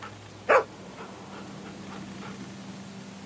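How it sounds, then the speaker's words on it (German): A dog gives a single short, sharp bark in The Walking Dead Season 2, standing out once against a quiet, low ambient background with nothing else following. "Ein böser Hund."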